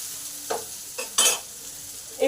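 Potatoes coated in salt and turmeric fry in a pan under a low constant sizzle, with several scraping stirs of a spatula, one louder and longer, spaced across the moment.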